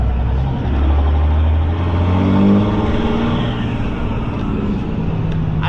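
A car engine with an exhaust dump revs and drones steadily from inside the moving vehicle, a loud continuous rumble that swells slightly midway, with no talking.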